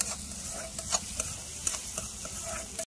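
Chopped onions saute in oil in a pan over a medium flame for an egg chutney, with a soft, quiet sizzle and a few sharper scrapes and taps as a spoon stirs them.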